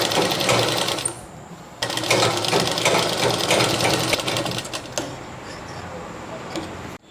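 A sewing machine stitches fabric for a goddess idol's dress in quick, rattling bursts, loud and close, pausing briefly between runs.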